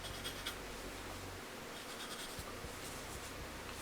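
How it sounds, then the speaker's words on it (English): A pencil draws a line on paper for a beginner drawing lesson, giving a soft, close scratchy scraping stroke that continues steadily, with no talking. "Just draw a line there."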